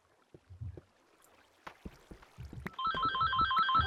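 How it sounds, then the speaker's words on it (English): A phone rings with a looping electronic ringtone that starts partway through and continues steadily, after scattered soft knocks and clicks. "Shut that phone up."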